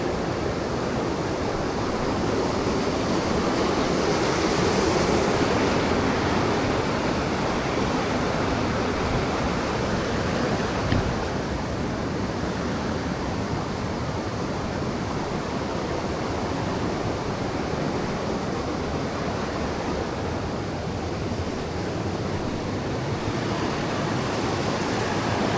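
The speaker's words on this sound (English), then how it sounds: "if we get to the bridge, we'll be able to see the river in all its glory" River water rushing through Ballaglass Glen on the Isle of Man, a loud steady broadband roar that holds almost unchanged throughout, with no talk.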